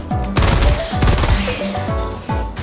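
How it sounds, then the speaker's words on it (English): A Helldivers 2 machine gun fires in rapid, loud bursts of heavy repeating shots with brief pauses between volleys, close and dominant, with no talking. "You kind of want to run this machine gun right out of ammo."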